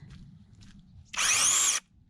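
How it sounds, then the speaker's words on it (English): A mini chainsaw cuts firewood outdoors on a homestead terrace. It gives a single loud, high, whining burst of a little over half a second, which stands out sharply against quiet background noise. "it's mini chainsaw time."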